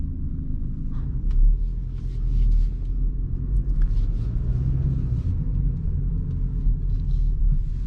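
A BMW X4 xDrive 20d with a 2-litre diesel engine pulls away from a standstill at night, heard from inside as a steady low engine rumble and road drone that swells slightly as it moves off, with no talking.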